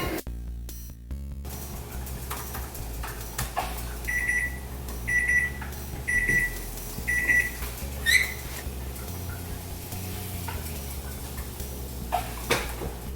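Four evenly spaced electronic beeps from a kitchen timer, moderately loud, amid kitchen clatter and a low background hum while pork buns are steamed.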